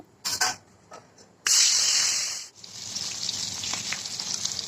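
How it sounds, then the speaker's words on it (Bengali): Dry red chilies, bay leaves and whole cumin hit hot oil for fish-head kalai dal, giving a few sharp crackles and then a loud burst of sizzling that settles into a steady, close frying hiss. "দেখো ফোড়ন দিলাম শুকনো লঙ্কা তেজপাতা গোটা জিরে"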